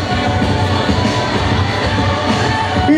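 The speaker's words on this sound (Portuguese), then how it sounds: "Tem grito pra Gislaine aí." Pageant crowd at the Rainha do Abacaxi queen contest in São Domingos, Maranhão, cheering and shouting for a contestant, a dense, loud, continuous roar of voices throughout.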